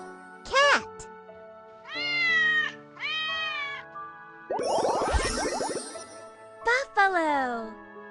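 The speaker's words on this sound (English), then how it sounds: "Cat." A domestic cat meows in several distinct, drawn-out calls spread across the clip, with a brief jingling sound and a burst of noisier vocalizing in the middle; no speech is heard.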